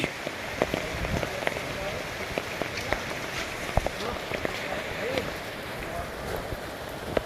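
Heavy, sudden rain from a typhoon pours steadily onto surfaces nearby, with scattered sharp drip impacts and faint voices beneath the downpour.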